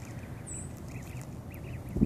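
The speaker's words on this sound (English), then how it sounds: "four little ducklings or whatever you call them" Four small ducklings give soft, faint quacks and peeps against a steady outdoor background, with a low thump at the end.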